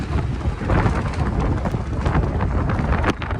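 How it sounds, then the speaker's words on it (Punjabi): Rain beginning to fall outdoors, heard as a loud, dense patter and rush mixed with gusty wind buffeting the microphone, continuous with no voices. "ਕਣੀਆਂ ਪੂਰੀਆਂ ਆ ਗਈਆਂ ਬਈ"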